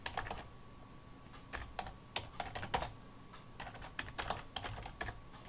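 Fingers typing on a computer keyboard, producing quiet, irregular clusters of close key clicks at low volume with no voices.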